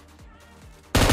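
A single sharp sniper shot from PUBG Mobile gameplay cracks loud and close near the end, after a quieter stretch of in-game ambience.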